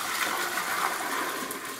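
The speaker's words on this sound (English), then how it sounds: "I pour a little bit of my boiling or my hot water mix back into that oil pot" Hot water mix pours steadily into a pot of oils while making double butter lotion, giving a continuous close splashing rush that runs unbroken throughout.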